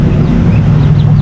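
A hen, thin after brooding, clucks close by in a rural Philippine yard, its soft calls running steadily over a constant low background rumble.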